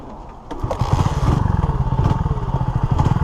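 A Honda CB250RS motorcycle engine on a green lane pulls away with a rising, pulsing exhaust note that settles into a steady, close throbbing drone, with some mechanical clatter near the start.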